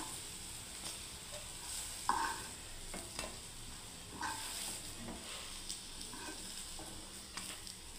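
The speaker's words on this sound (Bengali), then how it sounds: "বড়াগুলোকে তুলে নিচ্ছি বন্ধুরা" Potato fritters (bora) sizzle softly in hot oil in a kadai, a quiet continuous frying hiss with a few light scrapes and clinks as they are stirred and lifted out.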